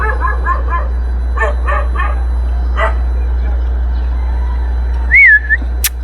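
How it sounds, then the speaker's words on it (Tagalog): An angry dog near a roadside crane site in the Philippines barks in quick clusters of three or four sharp barks with pauses between, over a constant low hum, followed by a brief wavering whistle-like tone. "Galit yung aso."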